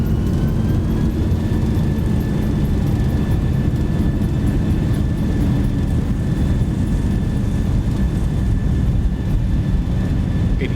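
Boeing 737-800 rolling out after landing at Salt Lake City in the X-Plane 12 flight simulator, a steady loud rumble of engines and braking with a faint whine, continuous throughout.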